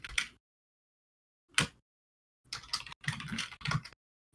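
Short bursts of typing on a computer keyboard, a few quick clusters of key clicks separated by silent gaps, close and fairly clear.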